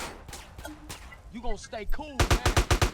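Rapid gunfire bursts in GTA San Andreas, a string of sharp shots ending in a loud, evenly spaced volley, with someone talking over the game.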